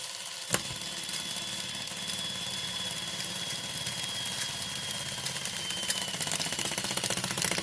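A T238 speedloader's small electric motor runs, loading BBs into an airsoft magazine; a sharp click starts a steady mechanical whirring buzz that keeps going and grows slightly rougher toward the end, close by, with no voice.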